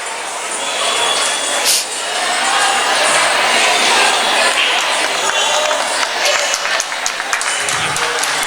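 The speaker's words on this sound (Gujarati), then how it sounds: "ખૂબ તાળીઓના ગડગડાટથી વધાવ્યા આપણા માનવંતા મહેમાનોને." Loud, sustained applause from an audience welcoming guests at an award distribution ceremony with a Kathak dance demonstration, dense clapping filling the whole stretch with a brief dip near the middle.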